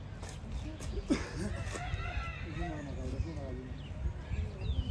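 Chickens cluck and call repeatedly outdoors at Faunia zoo in Madrid, with a person talking over them and a steady low background rumble.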